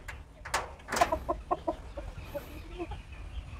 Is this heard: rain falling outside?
no